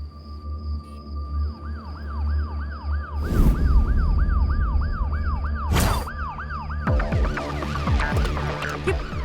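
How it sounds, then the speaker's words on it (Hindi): A wailing siren rises and falls repeatedly, loud and close, with two sharp bursts of noise partway through and a faster yelping pattern at the end; no talking. "पुलिस का सायरन।"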